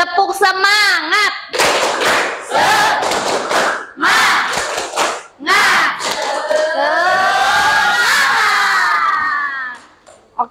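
Classroom of children chanting and clapping the Indonesian tepuk semangat routine in loud bursts of rhythmic claps and shouted chant, with short pauses between, ending with a drawn-out cheer.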